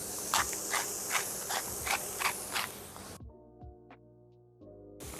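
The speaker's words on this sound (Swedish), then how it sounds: "Så nu kommer vi steka köttet tills det har en krispig yta" Steak sizzles and spits in a hot dry pan for a cheesesteak sandwich, loud and close with rhythmic bursts of hiss. After about three seconds it cuts to near silence broken by faint tonal sounds.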